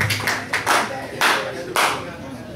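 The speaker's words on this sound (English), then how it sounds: "Keep clapping for Mac Black." Open mic audience clapping for a comedian, a steady patter of hands with a few louder surges, fairly close, while a voice talks over it.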